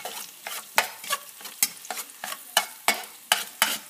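An egg frying in a pan for homemade fried rice, with a soft background sizzle broken by repeated scraping and stirring strokes that come in an uneven rhythm, close and moderately loud.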